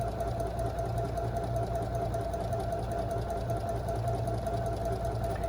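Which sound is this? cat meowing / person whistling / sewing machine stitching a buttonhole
sewing machine stitching a buttonhole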